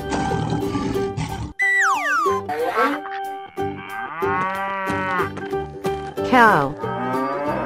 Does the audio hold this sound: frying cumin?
no